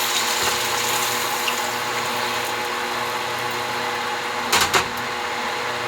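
Water pours steadily into a cooking pot in a continuous rushing stream, with a couple of brief clanks near the end.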